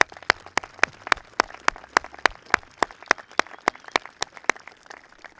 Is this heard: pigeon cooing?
no